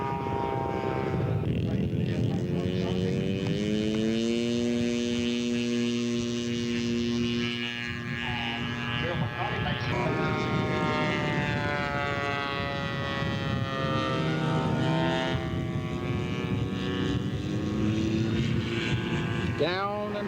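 A radio-controlled scale model P-39 Airacobra at a scale aircraft show runs its engine with a loud, continuous buzzing whine that shifts in pitch as it passes, with voices talking faintly underneath.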